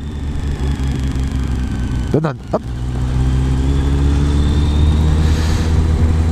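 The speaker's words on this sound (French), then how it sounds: "tiens, je vais suivre la moto" A motorcycle engine drones steadily nearby, rising slightly in pitch as it rides along, with a brief word spoken over it midway.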